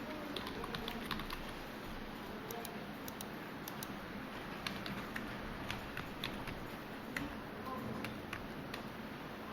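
Values being typed on a computer keyboard, a steady run of quick close key clicks over faint background hiss, with a voice speaking at times.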